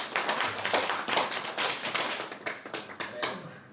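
Hypnosis training participants clap their hands after being woken, a scattered run of sharp claps that thins toward the end into a few distinct, uneven slaps close by.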